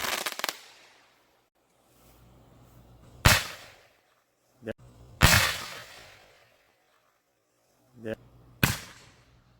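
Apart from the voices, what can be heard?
MegaBanger artillery shell fireworks exploding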